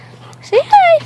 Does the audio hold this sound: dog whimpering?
yes